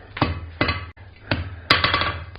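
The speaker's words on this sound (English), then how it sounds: "I'll use the flat side of my hammer, kind of half on, half off blows on the edge of the anvil" Four sharp metallic hammer blows ring out at uneven intervals as a smith strikes half on, half off the edge of an anvil with the flat of the hammer while forging a ball end coat and hat hook, close and loud.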